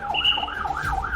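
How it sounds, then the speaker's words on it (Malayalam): An ambulance siren carrying a donor heart to Ernakulam General Hospital in Kochi wails in a steady rising-and-falling pattern, loud and close, with traffic rumble underneath and no talk. "ഇപ്പോൾ ആശുപത്രിയിലേക്ക് ഈ ഹൃദയം വഹിച്ചുകൊണ്ടുള്ള ആംബുലൻസ് വരികയാണ്."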